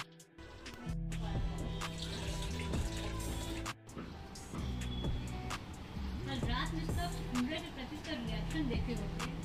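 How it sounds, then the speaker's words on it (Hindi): Water pours steadily into a household air cooler. The filling splashes and runs continuously, with indistinct voices nearby. "मैं कूलर में पानी भर रहा हूँ"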